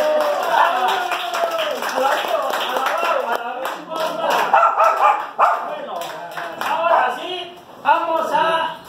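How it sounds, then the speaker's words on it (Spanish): Guests at an adult birthday party with clowns clap for the guest of honour, quick rhythmic clapping mixed with loud cheering voices and shrill, yipping shouts throughout, close and lively. "Fuerte los aplausos para la festejada"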